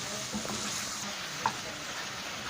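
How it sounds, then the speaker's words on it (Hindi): Ground spices sizzle gently in oil in a pan while being sautéed for an aloo chicken curry, a soft continuous frying hiss with one brief clink of a spoon, no voices. "सारे मसाले डालकर आप इतनी देर भूनें कि इसका ऑयल ऊपर आ जाए।"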